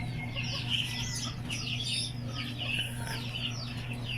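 Shamo Asil cross chickens, large birds, give off a steady stream of overlapping clucks and chirps, close by and continuous, over a low hum from the surroundings.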